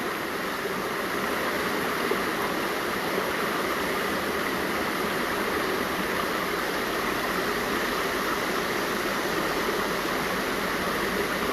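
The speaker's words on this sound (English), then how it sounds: "Perfect flow, just like this water" Steady rushing of stream water flowing continuously, a broad even wash of sound with no breaks, moderately loud and alone.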